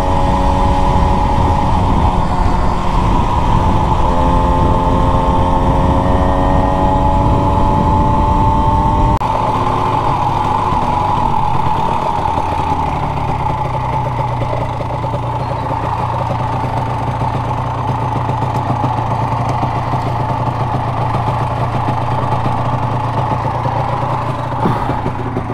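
A Honda NSR motorcycle fitted with a Malossi 180 kit runs close by, revving and holding a raspy two-stroke tone, then dropping into a steady lumpy idle for the rest of the time, with no voices.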